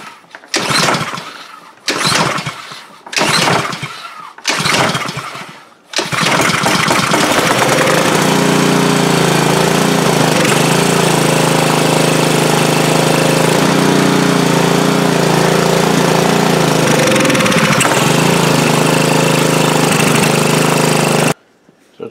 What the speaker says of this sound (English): It's only running the smoothest with just a partial choke.